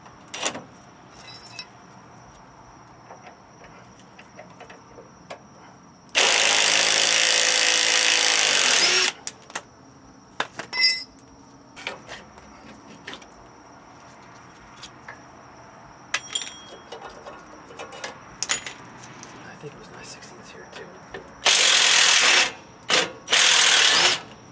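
Power tool loosening bolts on the front end of a 1976 GMC motorhome, heard as two loud sustained bursts of whirring with scattered clanks and clicks of tools in between.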